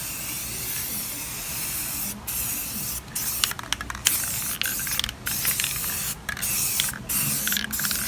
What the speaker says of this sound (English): Prepping the top of the dash here and I'm gonna spray that with some Rust-Oleum